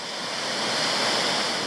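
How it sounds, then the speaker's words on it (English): Water rushing steadily at a waterfall, heard from a lookout area above the falls as a continuous broadband roar, fairly loud and unbroken, with some wind noise mixed in and no talking. "Good flow of water actually, better than I expected."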